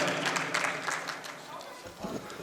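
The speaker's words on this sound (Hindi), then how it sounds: "आप ज़ोरदार तालियों से उनका इस्तकबाल करें" Audience applause welcoming a poet on stage at an All India Mushaira ghazal gathering in Guru Nanak Dev Bhawan: dense, steady clapping from a crowd filling the hall, fading slightly near the end.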